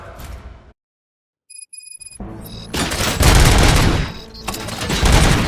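After a moment of silence and some electronic beeps, heavy rapid gunfire erupts and keeps going, loud and dense like automatic weapons, during a prison riot battle against OCP droids in Robocop: Rogue City.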